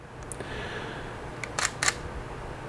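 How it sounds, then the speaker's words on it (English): Sony NEX 5R mirrorless camera with a faulty shutter clicking twice in quick succession, two sharp close clicks over a quiet room hiss. "It double clicked."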